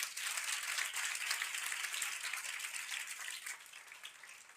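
A church congregation gives rousing applause in worship, a dense, even roar of many hands clapping that stays steady, then thins and fades slightly toward the end.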